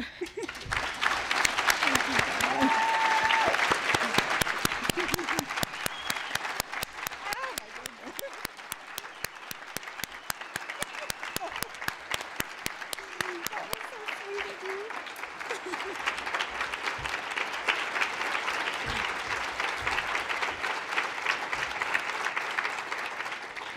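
An audience at a 2012 speaker gathering applauds, a long sustained stretch of clapping that rises, dips slightly midway, then swells again, with voices and cheers scattered through it.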